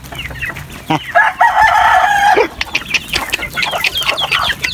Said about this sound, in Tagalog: papakain muna tayo ng ating mga manok